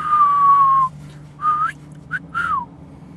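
A person whistles a long steady note, then three shorter rising and falling phrases with brief gaps, close and clear against a faint low hum.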